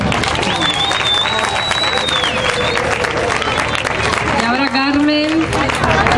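Crowd applause and cheering at a village festival coronation in Turre Viejo, sustained clapping mixed with babble, a few whistles and voices calling out over it.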